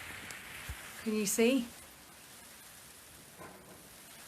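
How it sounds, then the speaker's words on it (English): A mix of hail and rain falls steadily outside a potting shed, a soft continuous patter, while a voice briefly speaks over it. "So I think it's half between hail and rain."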